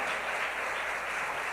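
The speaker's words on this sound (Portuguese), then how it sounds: "Pode aplaudir Jesus pela vida deles?" A church congregation applauding during a vigil service, a steady wash of clapping heard briefly and moderately loud, with no talk over it.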